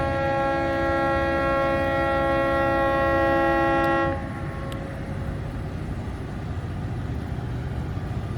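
A freight train horn blares steadily for several seconds, then cuts off, leaving the heavy rumble of the fast-passing train close by, near Broken Bow, Oklahoma.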